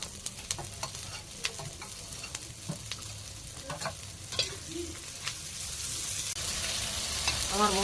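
Spice paste of chili powder and ginger paste fries in a pan, soft sizzling broken by scattered clicks and scrapes of stirring, the frying growing louder and brighter toward the end.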